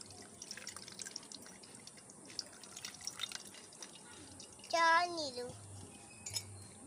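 Homemade cornflour liquid being strained, with faint soft drips and small liquid trickles, then a brief brighter pouring or clinking moment near the end, quiet and close.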